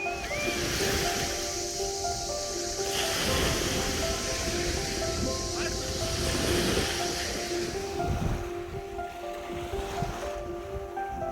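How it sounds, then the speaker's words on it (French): Ocean waves wash and surge continuously at a moderate distance at Le Lavandou on the French coast, with a faint steady hum running underneath and no voices. "nous profitons enfin du bruit des vagues"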